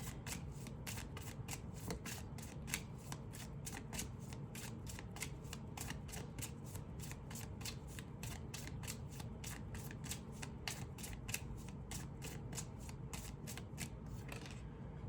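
Tarot cards being shuffled by hand up close, a long continuous run of rapid riffling flutters in a steady rhythm at a fairly quiet level, with no one speaking.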